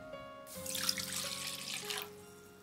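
Water is poured into a bowl of okonomiyaki batter ingredients with dashi powder, salt, bonito flake powder and soy sauce, giving a soft, brief splashing trickle of about a second and a half over faint background hum.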